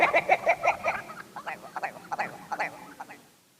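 A rock ptarmigan in winter white calls in the Arctic, a run of rhythmic, rattling croaks at first, then scattered harsher clucks that fade toward the end, heard fairly close and alone.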